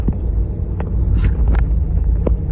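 A Ford Powerstroke diesel truck idling nearby, a loud steady low rumble with a few faint clicks and knocks over it, no voices.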